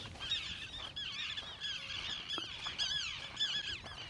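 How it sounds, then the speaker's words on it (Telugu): Outdoor birds near a reservoir call in a dense, continuous chorus of honking, squealing cries, many overlapping, fairly faint and steady with no talk. "పక్షుల సౌండ్ వినండి అబ్బా"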